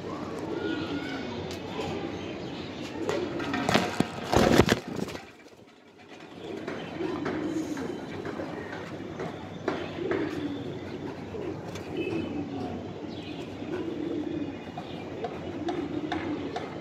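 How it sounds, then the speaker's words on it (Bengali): Giribaz pigeons coo in low, repeated, throaty rolls close by, broken briefly by a loud rustling burst partway through. "দেখেন এমন এক পেয়ার কবুতর"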